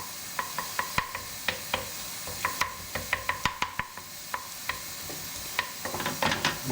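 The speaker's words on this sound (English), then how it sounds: "You just need to let this simmer now." Arrabbiata tomato sauce simmers in a pan with a soft, constant sizzling hiss, punctuated by close, crisp taps of a wooden fork against the pan; no one speaks.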